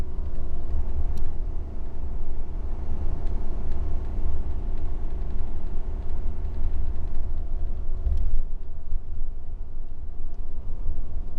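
A Ford V10 engine in a 30-foot Allegro motorhome without a Banks kit, at full throttle climbing Baker grade, gives a steady, loud, low droning rumble that holds level throughout, with road noise under it.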